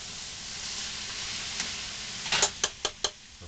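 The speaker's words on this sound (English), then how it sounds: "One more good stir." Chicken fajitas sizzle steadily in a hot pan, then a utensil gets stirred through them, scraping and clicking against the pan in four or five quick, sharp knocks near the end.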